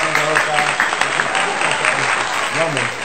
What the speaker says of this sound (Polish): podziękujcie brawami za ostatnie wystąpienie